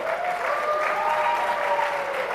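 An audience at an African human rights moot court competition claps steadily for the best oralists, a dense sustained round of applause heard up close with no talk over it.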